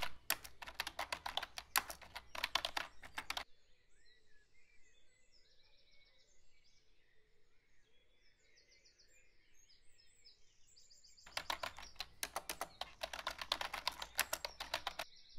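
Rapid clicks of typing on a computer keyboard to enter sign-up details, in two dense bursts at the start and end with near silence between, close and fairly quiet.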